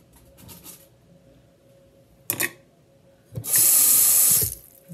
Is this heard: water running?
yes